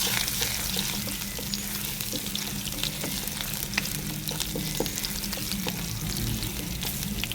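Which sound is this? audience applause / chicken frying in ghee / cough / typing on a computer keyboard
chicken frying in ghee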